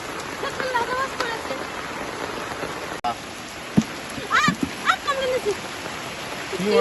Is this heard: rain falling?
yes